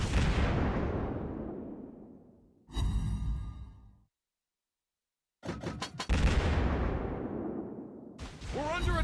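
Naval gunfire hitting ships in the World of Warships Blitz video game: loud booming impacts with long decaying rumble, a brief silence, then further heavy blasts and crackling hits.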